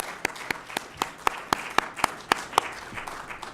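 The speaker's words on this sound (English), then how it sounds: "Big round of applause" Sparse applause at a Nasdaq bell ringing event for colorectal cancer awareness, a handful of distinct, evenly spaced claps from a small group, fairly soft and close, fading toward the end.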